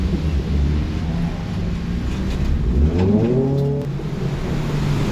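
Race car engine at a Lemons endurance race at Ridge Motorsports Park, a steady loud drone with a rising whine as another car flies past close by, continuous throughout.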